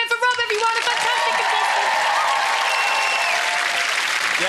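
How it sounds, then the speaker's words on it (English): A TV game show studio audience breaks into loud, sustained applause that swells quickly and holds steady, with a brief musical sting at the start. "Massive round of applause again for Rob, everyone."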